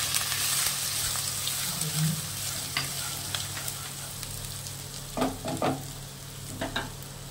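Soaked, drained ash gourd lands in a hot pan with ginger paste, turmeric and cumin, giving a steady frying sizzle with a few louder bursts of scraping and stirring near the end.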